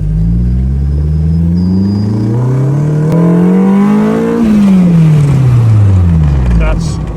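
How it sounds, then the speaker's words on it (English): A 1953 MG TF with a swapped-in Honda S2000 engine revs loudly and close, its pitch climbing steadily into VTEC before dropping off as the throttle closes. "We got a VTEC. I was not ready for that. First time VTEC MG."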